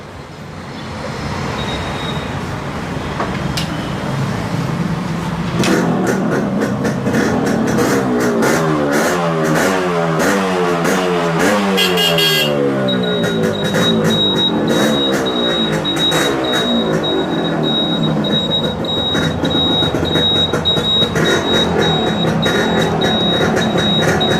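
Yamaha RX motorcycle at a Chennai restoration shop, engine starting then revving loudly and close, two-stroke pitch rising and falling in repeated throttle blips before settling into a steady idle.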